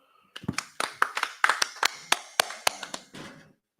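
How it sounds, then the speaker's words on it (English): A congregation claps hands at a Sabbath service in San Antonio, a run of about a dozen sharp, loud claps in a fairly steady rhythm, close and ringing, with no talk over it. "Go ahead and clap it up."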